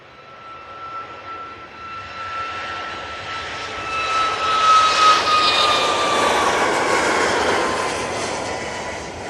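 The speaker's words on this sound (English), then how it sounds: "Next in, we've got the Ryanair from Alicante." A Ryanair jet arrives from Alicante at an airport on a wet, damp day. A steady engine roar with a high whining tone builds gradually to a loud peak and holds before easing slightly.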